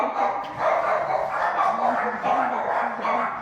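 A small dog barks repeatedly in an animal adoption segment, the yaps fairly close and steady across the stretch, mixed in with people talking throughout.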